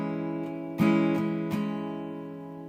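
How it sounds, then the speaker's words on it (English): Guitar chords for a song, strummed mostly with downstrokes: a few close, distinct strums in uneven rhythm, each left ringing and slowly fading, with no voices. "It's all pretty much downstrokes here at the beginning"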